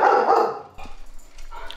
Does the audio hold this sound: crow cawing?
no